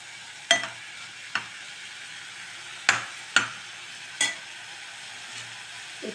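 Broccoli sautéing over a high flame for broccoli biryani, heard as a quiet steady sizzle broken by about five sharp, close scraping strokes of a spoon or spatula against the pan.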